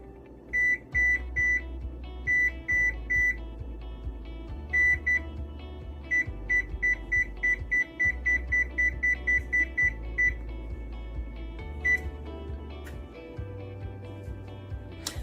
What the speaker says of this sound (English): the first step is to preheat the oven for